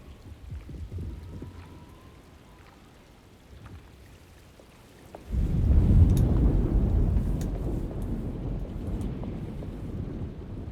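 Storm wind in the video game Alone in the Dark: a low rushing gust swells suddenly midway and keeps roaring steadily, with a rain-like hiss and no voices.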